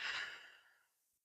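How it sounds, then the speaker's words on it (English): One slow, close breath out, a soft airy rush that starts fairly strong and tapers to nothing over about a second, with no talking. "I'm going to think about exhaling from the top first, like I'm breathing out of a balloon"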